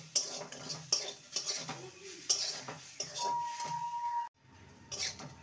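A spice mixture with turmeric for a green peas dish stirred in a pan, brisk spoon scrapes and metallic clinks over a faint sizzle, close and fairly quiet, ending in a short pause.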